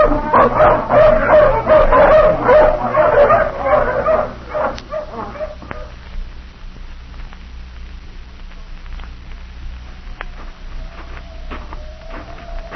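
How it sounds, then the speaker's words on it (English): Several dogs bark and yip excitedly in a loud burst for the first few seconds, then fade to occasional distant yelps and whimpers over a low hum. "let the hounds off the leash"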